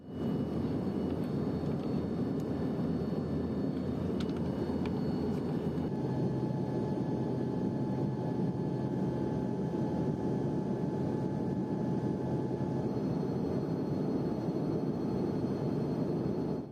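Steady broadband roar of a South African Airways airliner cabin in flight, a constant engine and airflow rumble filling the whole stretch with faint tonal hums layered on top and no talking.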